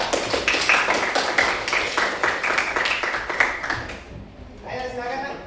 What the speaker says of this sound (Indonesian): Tepuk tangan dulu, kelompok 4.